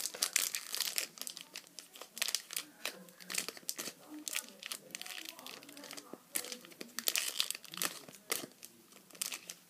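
Crinkly foil Pokémon card booster packs (XY-era Legendary Treasures and Plasma Blast) rustle and crackle continuously in uneven bursts, close and busy, as they are shuffled around by hand.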